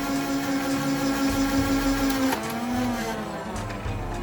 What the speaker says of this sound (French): Faut bien laisser lancer les moteurs